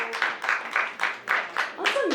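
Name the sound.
audience clapping at comedy show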